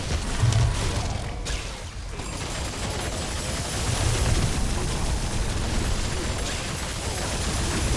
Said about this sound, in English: The dead point will just make a lot of explosions